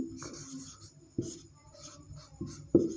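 Chalk or marker writing on a classroom board during a Hindi physics lesson, short scratchy strokes with a few sharper taps, close and fairly quiet with no talk over it.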